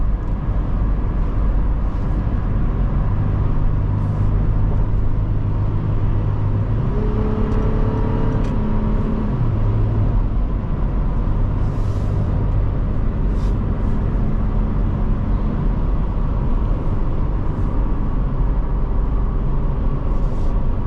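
A 2023 Toyota 4Runner TRD Off Road Premium cruising on a road, heard from inside the cabin as a steady, loud rumble of engine and tire noise with a hum that rises and shifts in pitch for a stretch, then settles.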